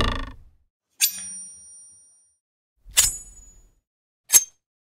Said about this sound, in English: when the blade hits the piece of wood, it warbles very slightly.